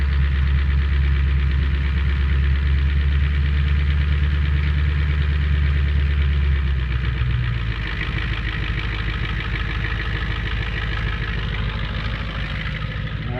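1987 Ford E350 cabriolet van with its engine idling steadily, a deep low rumble that drops slightly in tone partway through, continuous and close with no talking.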